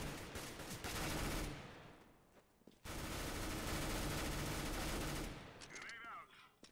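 Rapid automatic gunfire bursts in Counter-Strike: Global Offensive on the Dust 2 map during a classic competitive match, two dense sustained volleys separated by a short gap, loud and close, with a brief tail of fainter sounds.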